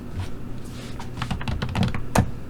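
Fingers type on a computer keyboard, a quick uneven run of close clicking keystrokes that grows slightly louder toward the end, with no talking over it.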